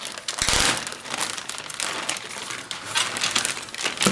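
The plastic bag of a Revell 1/32 scale X1 supersonic aircraft model kit crinkles loudly and close by, a continuous rustling and crackling handled for several seconds with sharper crunches at the start and end.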